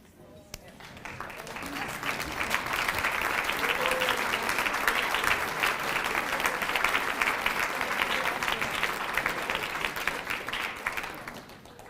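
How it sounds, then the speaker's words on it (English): An audience at a university student association inauguration applauds, dense steady clapping that swells in after the first second, holds for several seconds and slowly tapers off toward the end. "I'd like to give you a round of applause."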